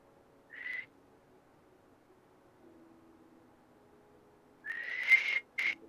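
A voice imitating a warship whistle gives a short whistle-like tone, pauses in near silence, then produces a longer, louder rising whistle imitation with a couple of breaks.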